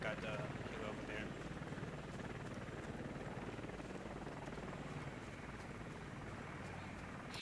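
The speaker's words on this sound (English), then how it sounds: "Most likely they got the helo over there." Helicopter in the video game Squad on the Gorodok map, a steady rotor and engine drone carrying throughout, with a player talking over it.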